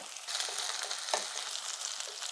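Sliced onion, green chilies and salt frying with garlic in a pan, a continuous close, bright sizzle with small crackles and no talking.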